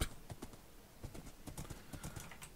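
Horse hooves clip-clopping in the Minecraft video game, a steady run of hoof hits at an even trotting rhythm, fairly quiet and close, with no talking over it.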